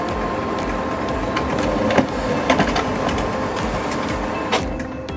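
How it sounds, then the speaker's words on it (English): OKI MB562 printer printing a font test page: continuous mechanical whirring broken by scattered clicks and small knocks as the paper feeds through. "We'll print a test page with a variety of font sizes and colors to assess the printer's true performance."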